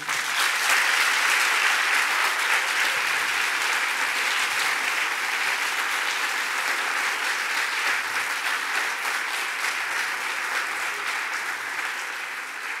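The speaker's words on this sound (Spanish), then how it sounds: "un gran aplauso para Diego" Sustained applause from a large audience at a Spanish-language science talk in a cultural centre, dense and even clapping that continues steadily for the whole span and tapers slightly toward the end.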